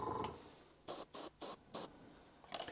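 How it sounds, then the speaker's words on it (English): An Iwata Eclipse airbrush lays brake-dust weathering onto a model cement wagon in four short, even bursts of soft hissing spray spaced about a third of a second apart, then a final faint puff, all close and quiet. "this Iwasher Eclipse airbrush that I'm using is you can come in really close with it"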